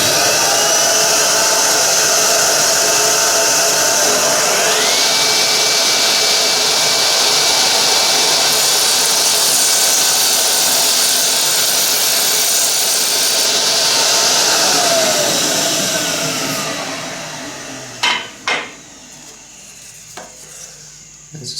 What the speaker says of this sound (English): So I can now turn the plywood sheet on its edge and rebate this section as well.